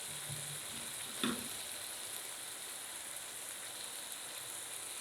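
Masala and minced mutton fry in a karahi with a steady, hissing sizzle, broken by one brief clink of a stirring spoon near the start.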